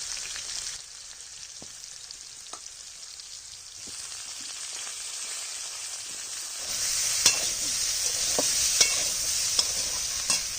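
Potatoes and cauliflower fry in a pan in a village kitchen, giving a steady close sizzle that swells louder partway through, broken by scattered scraping stirs and light clicks.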